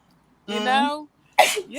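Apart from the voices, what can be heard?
sneeze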